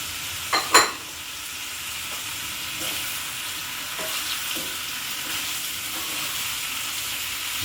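Peppers frying in a pan over a camp stove while cooking outdoors on a countryside walk: a steady, close hiss of sizzling fat, opened by a couple of sharp clatters as the peppers hit the pan.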